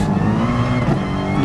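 A race car engine held at full throttle at Interlagos in GT Sport, a loud, steady, high-revving roar throughout the short burst.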